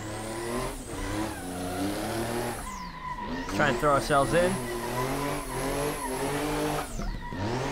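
Race cars in the Assetto Corsa racing game rev hard and skid past in tandem, with loud engine whines rising and falling and squealing tires, while someone talks over the action.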